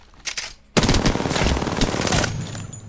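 Rapid automatic hip-fire from a weapon in Apex Legends rattles out as a loud, dense burst of close gunshots that lasts about a second and a half after a short quieter lead-in.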